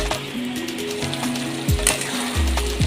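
Shrimp malai curry cooking in a pan, continuous close sizzle and bubbling with repeated low mechanical hum swells and a few clicks.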